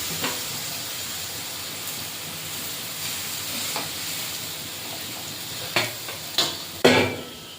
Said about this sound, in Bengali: দিয়ে একটু নাড়াচাড়া করে জল দিয়ে দেবো।